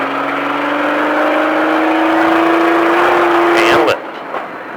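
An off-road stadium truck at Speed Vegas accelerates hard, its engine droning and rising steadily in pitch for about four seconds before cutting off abruptly, with a voice talking over it.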